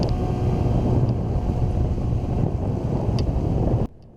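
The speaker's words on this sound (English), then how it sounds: "The wind is blowing really hard out of the south." Strong south wind buffets the microphone in a harbor, a loud continuous roar and rush that holds steady, then cuts off abruptly near the end.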